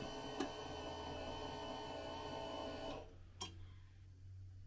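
A heat press in a small boutique workshop whirs with a steady mechanical hum, then gives a clunk and shifts to a lower, quieter drone as it unclenches and spins. A faint tick is heard, and no one speaks.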